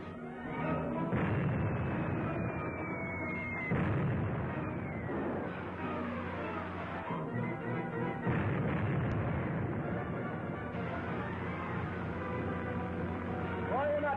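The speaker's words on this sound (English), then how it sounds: "That's a 3-inch shell they're firing at us." Naval artillery fire from 3-inch shells aimed at a ship in a 1945 spy serial, heard as heavy booming blasts and rumbling explosions under orchestral music, with whistling descending tones of incoming rounds.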